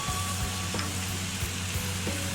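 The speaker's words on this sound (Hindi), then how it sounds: "और इसकी थोड़ी देर हम फ्राई करेंगे।" Arvi (taro root) frying in a pan, a continuous close sizzle with a few faint scraping stirs through it.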